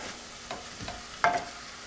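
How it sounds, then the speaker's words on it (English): A spoon stirring spices, Worcestershire sauce and red wine vinegar into sloppy joe filling in a pan: a few soft scraping stirs with a faint sizzle, quiet and brief. "Again, mixing."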